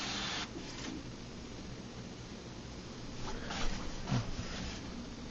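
An HP DeskJet 932c inkjet printer connected to an iMac runs alone with a steady mechanical whir and hiss. A few louder clicks and thumps of the print mechanism come near the end.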